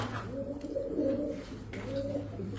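Two pigeons held in the hand coo softly in low, rolling phrases, two cooing bursts close by but faint over a quiet steady hum.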